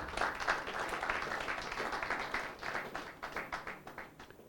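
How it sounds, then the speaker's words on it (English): A crowd applauds steadily throughout, dense overlapping claps that thin out slightly toward the end. "we deserve a round of applause for ourselves"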